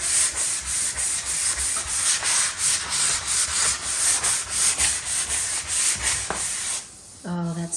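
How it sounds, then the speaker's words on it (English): Rhythmic back-and-forth sanding on wood, steady scratchy strokes repeating close up, ending with a few light knocks. "we're going to give this a nice sand"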